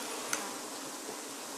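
Honey bees buzz while collecting pollen, a steady, dense hum of many insects holding evenly throughout, with no voices.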